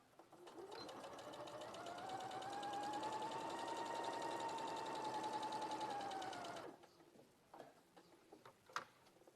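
A sewing machine stitches around a fabric box at a short stitch length, running steadily for about six seconds with a high whirring tone before stopping, followed by faint handling noises.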